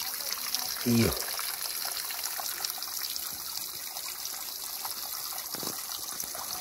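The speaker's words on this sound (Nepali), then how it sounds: "यहाँ चाहिँ पानी यसरी आइरहेछ यहाँनिर" Water trickles steadily outdoors in a forested hillside setting, a continuous soft flow with a brief spoken word near the start.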